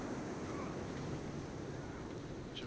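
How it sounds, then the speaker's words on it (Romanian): Strong wind roars through the Sons Of The Forest survival game world, a dense, continuous rushing gust with no pauses and no speech. "Bă, parcă prea tare bate vântul"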